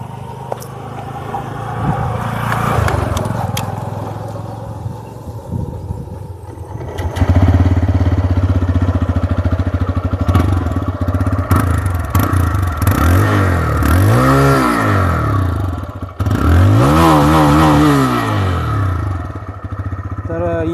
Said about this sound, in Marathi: तर गाडी आपण एकदा चालू पण करून बघू.